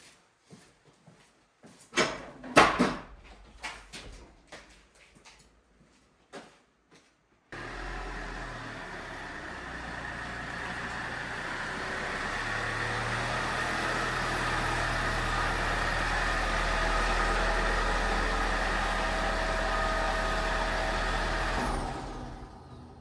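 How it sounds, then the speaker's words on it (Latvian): Toyota Corolla Verso being driven in: a few knocks and clunks, then the engine starts and runs in a steady close drone for about fifteen seconds before cutting off. "Dzīšu iekšā auto."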